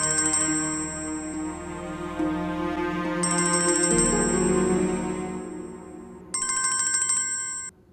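A phone's electronic ringtone plays loudly and steadily, a repeating melody with bright beeping tones over it, and no one speaking.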